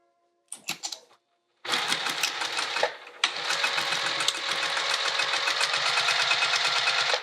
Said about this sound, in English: And we're gonna sew right up this edge.